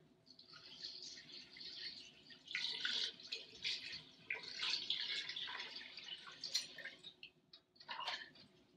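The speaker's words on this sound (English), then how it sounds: "And now I'm going to add 2 quarts of water." Water splashing and trickling into a pot for Mexican chicken soup, a faint, uneven gurgling stream with small splashes, quiet and continuous, no talking.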